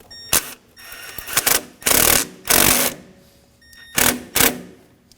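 A hose clamp is tightened in the engine bay of a 2009–2014 Ford F-150 3.5L V6, heard as about six loud, close, buzzy bursts of ratcheting with quiet gaps between them.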